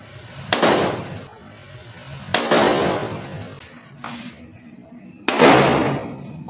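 A CO2 full-metal cork gun revolver fires three sharp, loud cracks spaced a couple of seconds apart, each bang trailing off into a brief decay, with no talking over them.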